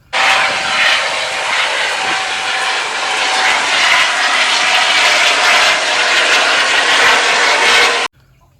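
A toy helicopter produces a loud, steady whirring engine drone that runs unbroken for about eight seconds before stopping abruptly.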